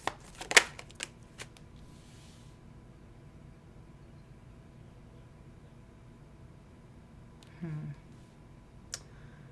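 Playing cards are shuffled close by in a brief riffle of rapid clicks, followed by long quiet and a few soft handling sounds.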